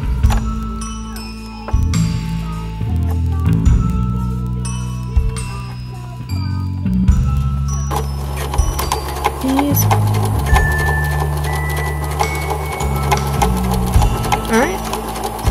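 A sewing machine bastes a fabric Christmas stocking over thick seams, its steady running whir continuing throughout, with music and intermittent talk over it.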